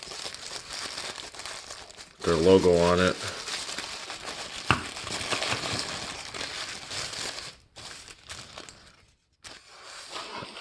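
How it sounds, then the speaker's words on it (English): Thin tissue paper wrapping around a three-piece men's nail clipper set crinkles softly in a large box while someone talks over the rustling. A brief loud crackle sounds near the start. "tissue paper"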